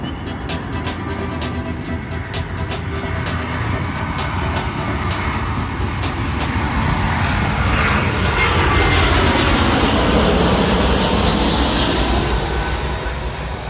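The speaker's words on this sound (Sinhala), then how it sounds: "Airbus A320 මොඩල් එකේ වර්ගයේ ශ්‍රී ලංකන් එයාලයින් එකකට ප්ලේන් එකක්." A Sri Lankan Airlines Airbus A320 jet roars loudly and steadily near an airport viewpoint at Katunayake. The engine rumble swells toward the middle and then slowly fades, with no speech.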